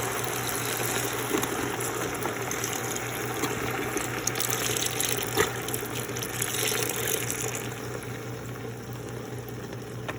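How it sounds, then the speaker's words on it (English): Chicken broth pours steadily into a pot for several seconds, a continuous close splashing and bubbling wash with no talking. "I'm just gonna pour the chicken broth here"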